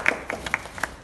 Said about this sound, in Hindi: तालियों की गूंज में, तालियों की गूंज में सर, तो हेलो अलविदा कहेंगे।